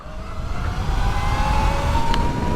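An electric Surron Ventus One motorbike accelerates hard in a rolling race, a smooth, loud motor whine climbing steadily in pitch over constant rushing wind, with no engine pulses and no voices.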